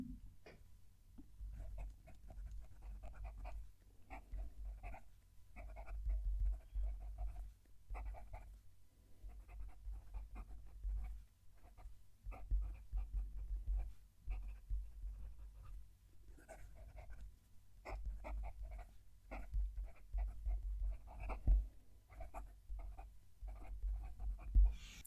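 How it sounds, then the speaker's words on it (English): A fountain pen, a Wing Sung 630 or Leonardo Momento Zero Grande, writes a sentence on paper with the mic held right at the page, giving quiet, close, intermittent scratchy strokes in short bursts with brief pauses between words. "Let's move the mic down to the page and write a sentence."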